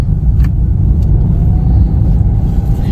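Inside a moving car on a rainy, overcast day, a steady low engine and road rumble hums continuously, loud and close, with no talking.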